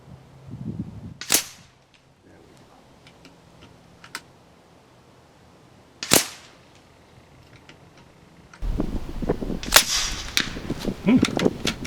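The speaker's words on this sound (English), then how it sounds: "I'm just going to shoot about 5, 6, or 7 groups, depending how it goes, on the little targets" Kalibrgun Cricket airgun firing .253 slugs at targets, two sharp cracking shots several seconds apart, close and loud over a quiet background, followed by rustling handling noise.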